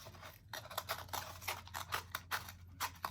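Scissors snipping around a cardboard paper towel roll, a quick run of short crisp cuts with a fairly steady rhythm, close and moderately loud with a low hum underneath.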